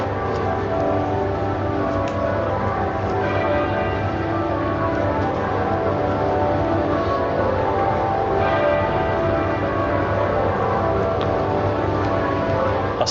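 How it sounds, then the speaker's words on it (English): Church bells toll steadily in the background in London at Queen Elizabeth's funeral, a continuous dense wash of ringing and crowd ambience throughout. "There are the bells in the background here."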